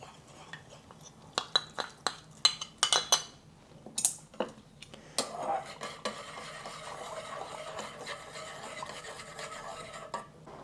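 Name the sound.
cornstarch slurry added to simmering sauce, stirred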